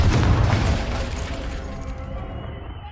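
A Confringo fire spell bursts in the video game Hogwarts Legacy, a heavy booming blast that starts loud and rolls away into a fading rumble.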